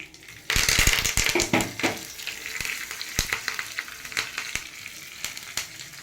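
Hot oil tempering hits raw mango chutney with a loud burst of sizzling and crackling, then settles into steady spitting pops that fade somewhat over several seconds.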